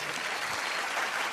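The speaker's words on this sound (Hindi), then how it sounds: "जोरदार तालियां" Audience clapping at a live comedy show, a thick wash of applause filling the whole short moment at a loud, steady level with no voices over it.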